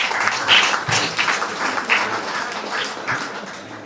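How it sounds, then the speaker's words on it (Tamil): Moderately loud applause from a school crowd at a medal presentation for a student footballer and her parents in Jaffna, uneven and sustained across the full few seconds. "அங்கே மீண்டும் அந்த கரகோஷம்"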